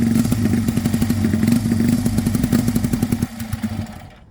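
A Honda Dream motorcycle with its carburetors out of balance fires up and runs with a rough, lumpy, pulsing beat, loud and close, then the engine cuts out and the sound drops away near the end.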